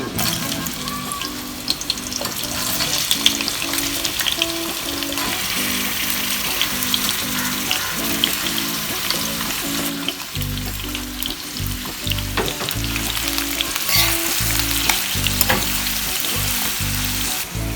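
Grated pumpkin frying in plenty of melted ghee for kaddu ka halwa, giving a loud, dense, continuous sizzle and crackle with occasional stirring, close up.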